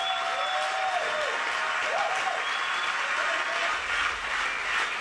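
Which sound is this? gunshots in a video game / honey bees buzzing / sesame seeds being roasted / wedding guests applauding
wedding guests applauding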